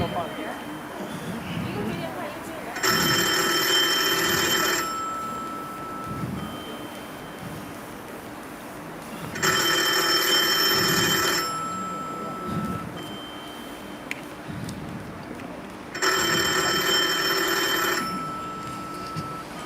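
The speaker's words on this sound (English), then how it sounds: "the phone." A telephone rings three times in long electronic trilling bursts with pauses between them, loud and near, while a person talks over the background.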